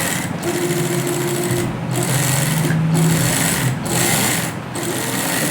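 An electric sewing machine runs loud and close, stitching along the edge of a round neckline, a steady rapid whirring hum broken by several short stops and restarts.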